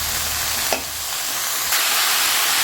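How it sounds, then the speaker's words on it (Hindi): Vegetables are stirred and mixed in a hot pan, a continuous loud sizzle with a couple of sharp spoon scrapes, no voices. "तो सब्ज़ी को कर दिया मिक्स"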